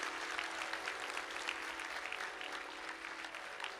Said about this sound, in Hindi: हमारी बात सही हो तो ताली फिर दोबारा बजाओ